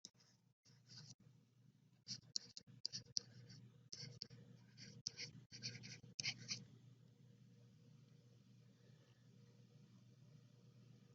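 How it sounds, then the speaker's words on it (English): A pen writing out math steps on paper, close and quiet, with scratchy irregular strokes for about six seconds before tapering into faint background noise. "we'll just write down what we're doing here"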